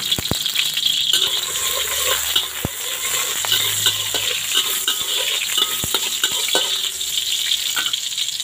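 Garlic and chili frying in a little oil in a pan, a steady loud sizzle close up with occasional clinks and stirring scrapes of a utensil, no talking.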